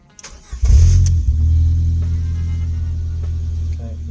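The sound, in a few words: Ford Fiesta engine starting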